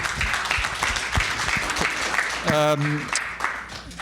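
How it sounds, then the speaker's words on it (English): A conference audience applauds a panel on cloud metro and 5G network edge, scattered claps rising into a moderate round, with a brief tonal beep partway through and voices speaking over it. "Please keep joining me in thanking the panel with a round of applause."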